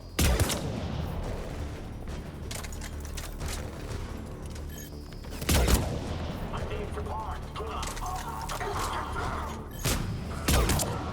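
Heavy gunfire and booming blasts from the video game Mass Effect 3 come in several loud, close bursts separated by busy game noise, with a voice talking in between.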